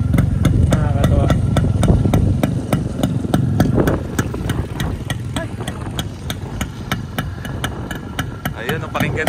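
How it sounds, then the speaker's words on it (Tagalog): Kawasaki Brutus 140 two-stroke motorcycle idling outdoors in the countryside, a steady rattly putter with sharp regular ticks, close and fairly loud. "Yun yung gusto ko yung tunog ng 2-stroke tsaka yung tunog ng bukid."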